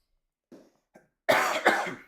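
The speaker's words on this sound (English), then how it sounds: "I have a lingering cough going on, so apologies for my coughs" A person coughs close by in a quiet room, first two soft throat sounds and then a harsh burst of two coughs, with no talk.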